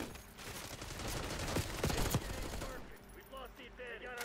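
Automatic gunfire in the video game Black Ops 6, dense rapid bursts that sound close and loud for about three seconds, then fade into quieter game ambience with some softer background effects.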